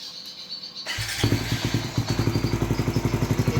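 A fuel-injected 200cc motorcycle engine cranks, catches and settles into a fast, even, throbbing idle, loud and close.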